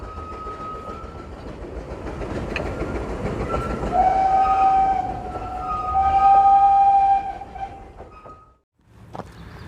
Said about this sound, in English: Let's go and find out what it's like to ride on that very train.